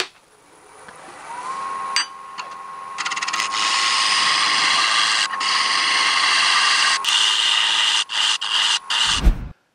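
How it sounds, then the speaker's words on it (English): A negative rake shear scraper smoothing wood on a lathe: a steady, loud scraping hiss with a thin whine that runs for several seconds, then breaks into short choppy bursts before stopping. "I'm going to use my super duper negative rake shear scraper, just like that, over all these surfaces."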